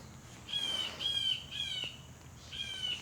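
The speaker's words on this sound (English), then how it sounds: "We got a bird here." A small bird gives four harsh, squawking calls at a steady pace, moderately near and clear over quiet outdoor background noise.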